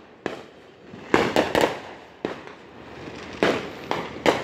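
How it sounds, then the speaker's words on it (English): Fourth of July fireworks bursting in a rapid series of sharp, loud booms and cracks, several clustered close together with brief gaps between volleys, some sounding near and others farther off. "Fireworks are happening everywhere!"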